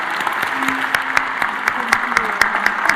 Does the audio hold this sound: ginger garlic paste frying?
no